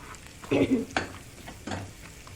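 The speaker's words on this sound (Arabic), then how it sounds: "هنا هو يا دوبك التومه قايمه تتشوح" Garlic sautéing in oil in a pan while making pizza sauce: a close, soft sizzle with a couple of brief scraping stirs of a utensil against the pan.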